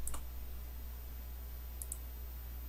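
Keyboard keys pressed while working in Tinkercad: two pairs of quick, crisp clicks, one pair at the start and one near the end, over a steady low hum with no talking.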